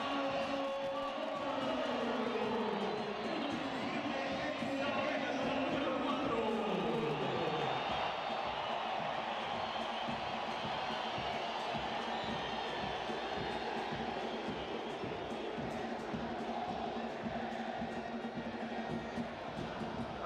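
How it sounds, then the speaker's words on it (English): Football stadium crowd at a Concacaf Nations League match between El Salvador and Trinidad & Tobago, a broad distant roar after a goal that swells early and holds steady, under a commentator's voice. "That should get this crowd into it."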